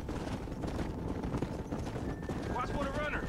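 Hooves of a cattle-driving herd and horses clatter in Red Dead Redemption, a busy continuous clip-clop under game music, with a brief whinny-like tone near the end and voices talking.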